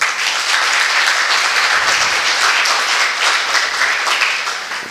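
An audience at a class session applauding, a loud, dense, sustained clapping from many hands close by, fading slightly at the end.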